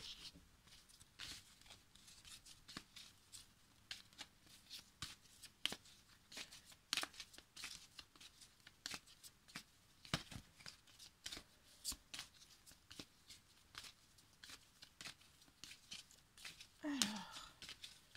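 A deck of oracle cards shuffled close and quietly by hand, producing a steady stream of soft riffling flicks that lasts throughout.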